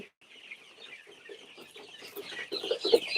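Egyptian Fayoumi chickens cluck in a steady, busy chatter from several birds on a farm, growing louder and denser toward the end.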